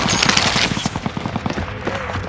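Rapid automatic gunfire in Call of Duty: Modern Warfare, a dense burst of close, loud shots in quick rhythm that thins into scattered rounds toward the end.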